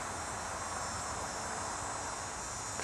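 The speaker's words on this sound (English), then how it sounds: "You can hear the cicadas outside in the distance" Cicadas drone in a steady, unbroken high-pitched buzz, somewhat distant, filling the air of fading evening light in the woods with no other sound over it.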